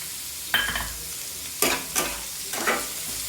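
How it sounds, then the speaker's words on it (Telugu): Boiled chickpeas stirred in a hot pan with potatoes and carrots for a jowar rava upma give off a soft, steady sizzle, broken by a few sharp scraping stirs at irregular intervals. "దాన్ని ఒక వన్ మినిట్ ఫ్రై చేసుకోవాలి"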